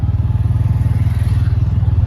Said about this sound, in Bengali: ও আমাদের এখন বাইক নিয়ে অফরোডিং হচ্ছে